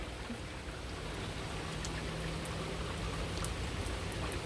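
Steady rain falls on a garden of loofah vines and sunflowers on a June day, a dense, even hiss of drops that continues without a break and has no voices over it.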